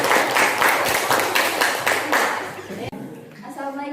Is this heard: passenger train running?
no